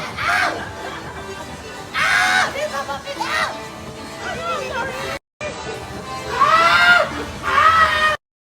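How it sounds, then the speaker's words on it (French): A man screams excitedly at an outdoor spot in Phuket, Thailand, with loud, high, repeated shrieks in bursts over crowd babble and other people talking and shouting nearby. "Pourquoi il hurle comme ça?"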